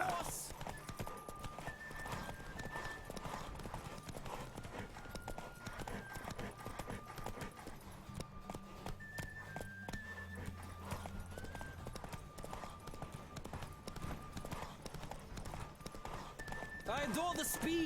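A horse gallops hard through a race in The Witcher 3: Wild Hunt, its driving clip-clop hoofbeats continuous and close, with occasional whinnies, music, and voices speaking over the pounding rhythm.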